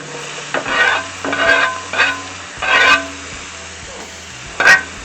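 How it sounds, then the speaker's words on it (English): Onions sizzle steadily in a hot frying pan for a sausage pierogi casserole, with close, repeated bursts of stirring and scraping swelling over the constant frying hiss. "Okay, we got a little sizzle there, so we're going to go ahead and get our onions in."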